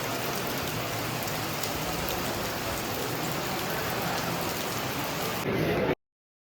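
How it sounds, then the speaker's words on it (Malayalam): Heavy rain pours steadily in a dense, even hiss of drops on surfaces, loud and close, before cutting off abruptly. "നല്ല ചൂടത്തൊക്കെ പോലോട്ട് നല്ല മഴ."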